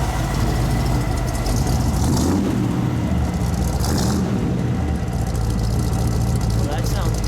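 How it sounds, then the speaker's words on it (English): A 1966 Batmobile's engine runs with a steady, deep exhaust rumble close by, loud and continuous throughout. "A little exhaust note."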